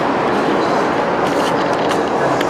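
An Arriva passenger train bound for Birmingham International roars past close by in Telford, a loud steady rush of wheels and rail noise throughout.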